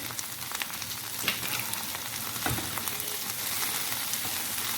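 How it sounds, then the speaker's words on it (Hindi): Chicken and okra masala with red chili powder frying in a pan, a steady close sizzle with occasional sharper crackles and faint stirring scrapes, no voices. "अभी हम इसे अच्छे से फ्राई करेंगे।"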